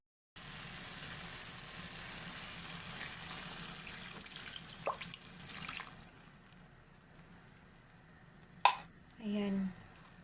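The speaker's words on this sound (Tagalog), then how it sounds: "Lagyan natin ng water." One cup of water is poured into a cooking pot of vegetables, including string beans and bitter melon: a steady, soft splashing rush for several seconds, then a few brief clanks and scrapes nearby.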